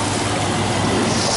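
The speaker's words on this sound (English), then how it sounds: "Right now the pump is still cavitating, not enough water. You hear that sucking in air." A water-cooled Carrier HVAC system's pump cavitating for lack of water, a dense, steady gurgling hiss of air being sucked in, loud and close without a break.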